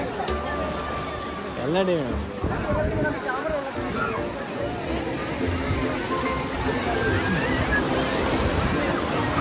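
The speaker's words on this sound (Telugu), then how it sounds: "ఇక్కడ రాక్స్ ఎక్కువ ఉండడం వల్ల అలలు అంతగా రావట్లేదు" Sea waves washing against rocks along the beach at Kanyakumari, a continuous rushing surf with wind buffeting the microphone and a crowd murmuring in the background.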